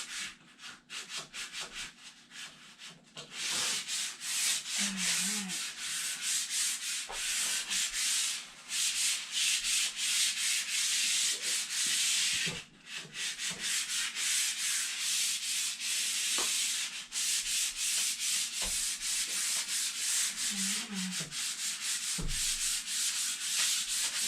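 Hand sanding with 240-grit sandpaper roughing up a wood finish on a live-edge vanity top, a steady, loud, close rasping scrub in continuous rapid strokes with brief pauses.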